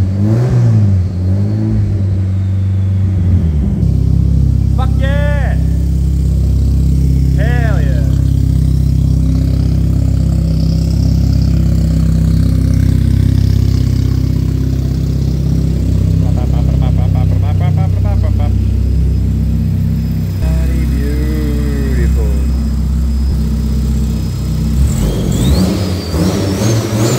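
A Nissan S13's SR20 engine fitted with LS1 parts runs loud and close, holding a rough, rumbling idle between revs that swell and drop. A person talks briefly over the engine at times.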